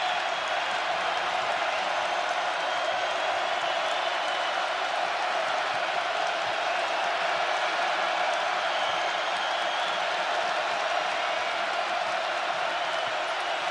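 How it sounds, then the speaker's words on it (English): A packed basketball arena crowd roars loudly and continuously, a dense sustained wall of cheering and applause with no breaks. "And this crowd is in full throat."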